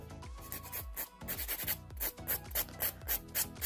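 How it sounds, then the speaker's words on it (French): A 100-180 grit nail file rasps back and forth over a gel nail, steady rhythmic scratchy strokes about three per second, close and soft. "Donc là j'utilise une lime"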